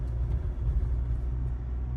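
A 2023 Ford Ranger Sport's engine rumbles low and steady from inside the cab while driving, a continuous drone with road noise and no distinct gear shift standing out.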